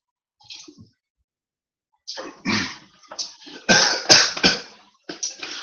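A short faint sound, then a run of harsh, explosive bursts like repeated coughing, close and loud, with brief gaps between them.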